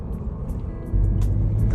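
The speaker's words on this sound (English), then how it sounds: "They haven't been able to hide that diesel clatter." A 2-litre diesel engine in a MINI Cooper SD hatchback, its low steady drone stepping up to a louder, heavier rev about halfway through, close and continuous with no talking.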